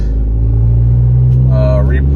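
Honda Accord fitted with coilovers and a 5-lug swap, with a leaking passenger-front valve stem, rumbles steadily from inside the cabin, a loud low engine drone with a brief rising whine near the end.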